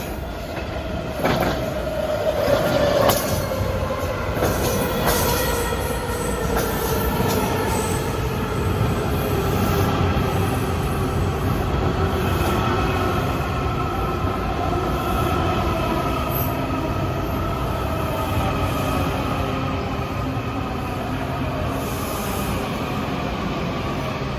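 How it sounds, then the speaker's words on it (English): A Washington Metro Red Line train bound for Shady Grove rolls through, a steady loud rail roar with drawn-out wheel squeal tones sliding in pitch over the whole stretch. "This is a Red Line train to Shady Grove"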